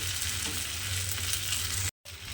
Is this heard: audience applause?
no